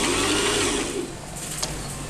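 A Singer 1408 Promise sewing machine whirs steadily as it winds thread onto a bobbin, a close, continuous mechanical hum that eases off toward the end.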